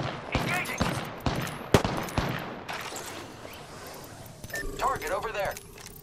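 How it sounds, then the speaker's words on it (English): Rapid gunfire and scattered shots ring out in Apex Legends, sharp cracks clustered in the first half, followed by mechanical clicks and game effects with voice lines over them. "I'm taking shots. Reloading. Enemy setting up a zipline. I am taking fire, friends."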